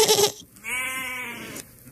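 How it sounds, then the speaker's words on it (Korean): A goat gives a single drawn-out, wavering bleat, close and clear, after a short burst of another sound. "너는 염소가 좋겠어."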